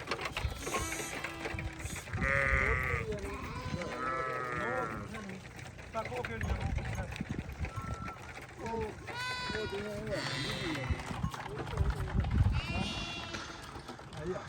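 Dumba sheep and young lambs bleat in a farm shed with a plastic pellet floor, scattered cries rising now and then beneath someone talking steadily.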